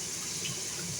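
Water runs from a tap and pours over fish being left to soak, a short, steady gushing wash heard close up with no voices.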